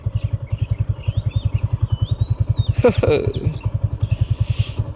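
A motorcycle engine idles close by outdoors in a steady low, rapid pulsing throb, with a brief clatter midway and faint birdsong in the background.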